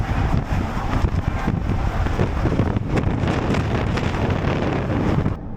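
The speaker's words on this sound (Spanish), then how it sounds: "Está bastante ventoso y muchas nubes." Strong wind buffets the microphone in a constant, loud rumbling roar on a cloudy road trip stop before rain, gusting slightly but never letting up until it drops at the very end.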